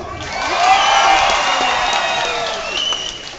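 A crowd at the Stryi city day celebration claps and cheers loudly, with whoops and children's shouts rising over the applause. The noise swells early, then eases slightly toward the end.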